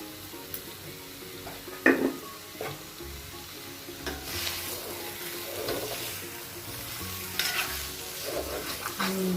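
Chicken frying in a pan with rock salt is stirred, a soft continuous sizzle broken by scraping, clattering strokes of the spoon against the pan, close and fairly quiet, with no talking.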